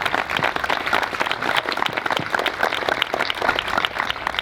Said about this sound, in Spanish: hay que dar un aplauso por el esfuerzo que han hecho